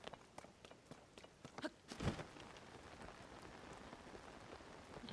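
Rain falls steadily in The Legend of Zelda: Tears of the Kingdom, a soft even patter across the ground, with a few footsteps and light taps early on before the rainfall settles into a constant wash.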